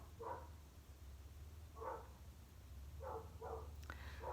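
A neighbor's dog barks in the background, four or five short, muffled barks at irregular intervals, faint and distant over a low steady hum.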